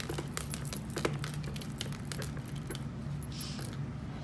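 An eraser wipes a board clear of notes and a sketched graph in a physics lesson, a close scratchy rubbing with small knocks over a steady low hum, heard on its own without talk.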